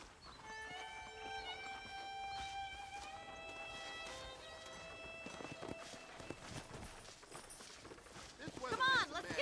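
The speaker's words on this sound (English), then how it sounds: "let's see if we can't wrangle some horses." Horses trot and run in the Western video game Red Dead Redemption, with quick rhythmic hoofbeats under sustained musical tones and speech, ending in a brief louder burst.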